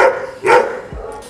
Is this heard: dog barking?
yes